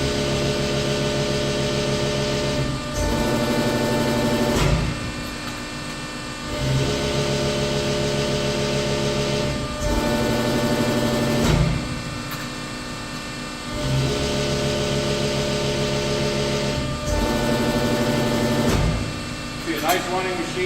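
A 230-ton, 14-foot Cincinnati 230CBX12 hydraulic CNC press brake cycles its ram repeatedly, a steady hydraulic hum broken every few seconds by a shifting surge as the ram travels up and down, close by and fairly quiet.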